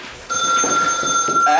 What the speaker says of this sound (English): Excuse the phone.